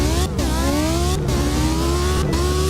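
Lamborghini Huracan STO V10 engine in the Driving Empire racing game revs hard and loud, climbing through gears with three brief breaks at upshifts, steady and close with no talking.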